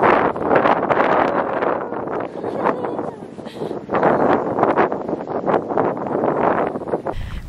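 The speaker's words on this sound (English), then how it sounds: "It's definitely very windy." Strong wind buffets an outdoor microphone on the Scottish coast, a loud, steady roaring rumble with gusty surges that continues throughout.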